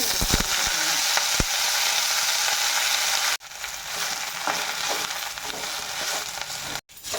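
Urad dal and chilies crackle and sizzle in hot oil with a dense, steady fry, a few sharp pops near the start and two brief dropouts in the middle and near the end.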